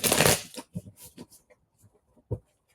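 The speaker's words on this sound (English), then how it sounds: "They want to be shuffled one more time." Tarot cards riffle and shuffle up close, opening with a dense, loud burst and trailing into a series of softer, uneven flicks and taps.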